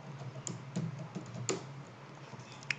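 Scattered key clicks from a computer keyboard while JavaScript code is typed, a few sparse taps close by over a quiet room hiss with no voices.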